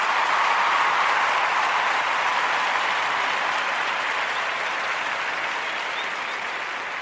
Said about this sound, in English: Oh, I got to give them a round of applause.